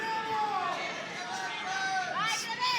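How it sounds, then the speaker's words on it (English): A boxing crowd roars in a steady, dense wash of shouting and cheering urging on Clemente Russo in his bout against Arkhypenko, with a few sharper whistles and yells rising above the sustained hubbub. "we're hearing it from the crowd. They're urging him on."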